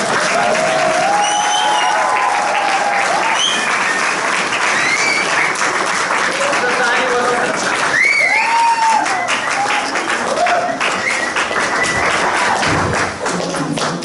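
A church congregation claps to welcome a pastor, with dense, sustained applause that fills the hall and stays steady and loud for the whole stretch.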